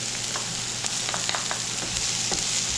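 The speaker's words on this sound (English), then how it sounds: "And we will just fry till the onion gets translucent." Chopped red onion fries in a pan with a steady, close sizzle, while scattered clicks and scrapes of stirring break through the hiss; nobody speaks.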